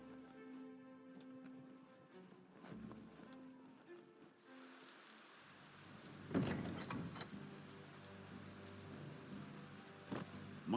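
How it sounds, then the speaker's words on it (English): Rain in the video game Biomutant, a soft patter that swells into heavier, louder rainfall partway through, with game music tones in the background. "might want to look for shelter from the rain."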